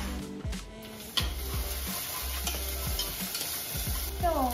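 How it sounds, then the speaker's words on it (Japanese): Boiled konnyaku stir-fried in a pan, with a steady sizzle and scraping stirring strokes close by, no voices over the frying. "よく炒めていきます"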